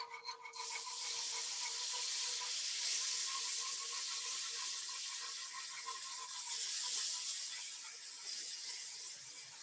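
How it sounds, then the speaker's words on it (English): Steady broadband sizzling fills the clip, a hissing sputter of gravy in a hot pan as coffee is whisked in, with faint scraping from the whisk, no voices. "You kind of hear the sizzling."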